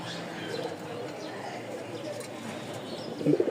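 Fantail and racer pigeons coo softly nearby, with low murmuring calls mixed into a background of talking and a clearer burst of cooing near the end.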